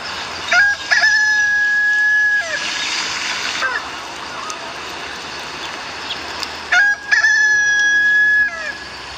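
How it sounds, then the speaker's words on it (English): A rooster crows twice from fairly close range, each a long, sustained call with a gap of several seconds between, set against a faint background hiss. "the rooster crowed"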